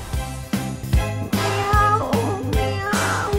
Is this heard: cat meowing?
yes